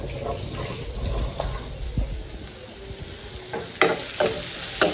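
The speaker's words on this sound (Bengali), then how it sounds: "এটাকে এইভাবেই ভাজি করবো, আস্তে আস্তে করে ভালো করে ভাজবো" Onion and chili sizzle and crackle in a hot pan, a close, steady frying hiss broken by louder spatters and scraping stirs near the end.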